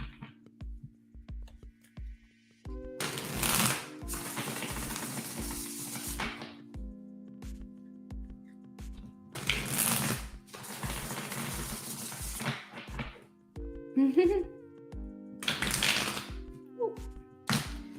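Tarot cards being shuffled: repeated short bursts of riffling and flicking in several bouts, fairly close, over a steady rhythmic ticking and low hum in the background.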